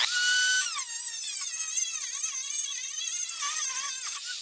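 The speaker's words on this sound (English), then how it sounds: "So, got the Dremel. Now let's get this piece cut out." A Dremel rotary tool cuts through knife steel with a piercing high-pitched whine whose pitch dips and wavers as the cutting wheel bites in, loud and close for several seconds.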